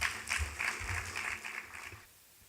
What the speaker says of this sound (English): another round of applause for the Honorable Minister